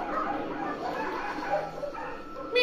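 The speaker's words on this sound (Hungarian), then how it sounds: "Mit ugat ennyire ez a papa?" A dog barks repeatedly in a home, the barks fairly close but muddied by ongoing household noise and people talking throughout.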